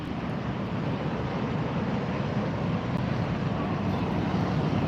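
A large aircraft landing at LAX airport gives off a steady, broad jet roar, loud and unbroken throughout with no talk over it.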